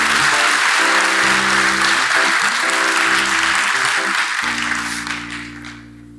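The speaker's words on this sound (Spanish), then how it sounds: "Dale un fuerte aplauso al Señor." Congregation clapping loudly in church, a dense sustained burst over a steady organ or keyboard chord backing, fading toward the end.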